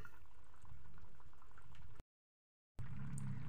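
Pot of vegetables for a rohu fish curry with potato and papaya simmering at a gentle boil, soft bubbling close by, cut off by a brief silence before resuming slightly louder.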